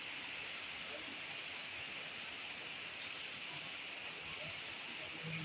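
Continuous hissing heavy downpour in Ongole, even and unbroken throughout, moderately quiet and close, with no one speaking.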